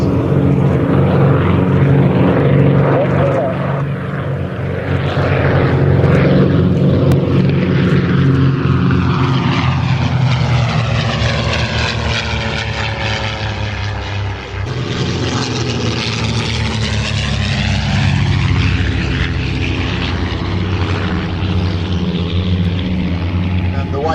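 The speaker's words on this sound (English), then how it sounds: "the Percival Mughal, another aeroplane linked inextricably with British aviation history" Vintage propeller aeroplanes, a Percival Mew Gull and a DH.88 Comet, flying nearby with a loud, continuous engine drone whose pitch rises and falls as they pass overhead.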